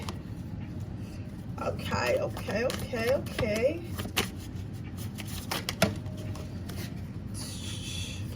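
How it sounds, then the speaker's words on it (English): Cards riffle and shuffle in quick, crisp bursts close to the microphone, with a person talking over part of it and steady room hum beneath. "This is my favorite deck, but it's so hard to shuffle sometimes"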